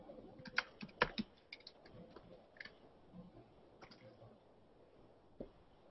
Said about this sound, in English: I'm getting used to talking and typing at the same time